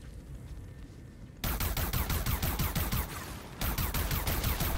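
Rapid automatic gunfire in the video game Far Cry 5 (Lost on Mars DLC) rattles in two long bursts, loud and close, separated by a brief pause after a quieter opening.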